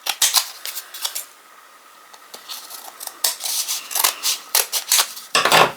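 Scissors snip through TPR material for hang tags, a series of short close crisp cuts with a brief lull near the middle, no voices.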